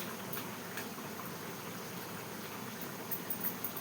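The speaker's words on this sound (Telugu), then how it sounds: "కుతకుతలాడుతుంది కూర" A pot of curry with mango bubbles and simmers on the stove, giving a constant hissing, gurgling boil at moderate loudness with a few sharper pops near the end; no one speaks.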